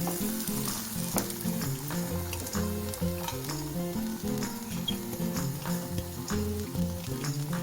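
Beaten eggs sizzle steadily in a hot pan for an egg thoran, a continuous frying crackle with repeated stirring clatter and a dense low music-like bed underneath.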